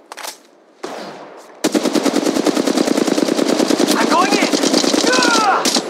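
Rapid automatic gunfire from Apex Legends Mobile rattles in a long, loud, continuous burst after a few brief swishes, with ricochet whines near the end.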